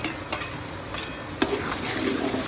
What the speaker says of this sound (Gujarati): અહીંયા કેપ્સિકમ ડુંગળીને બધું ચડે છે હવે